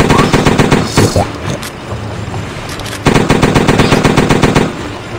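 Machine gun fire in the PC video game Battle For The Sun rattles in loud, rapid bursts, with a short lull in the middle before the firing resumes.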